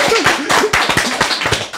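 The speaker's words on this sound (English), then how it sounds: "We didn't get a round of applause or nothing" Hosts clapping their hands in a podcast studio, a few close, loud, uneven claps and taps in quick succession with voices mixed in.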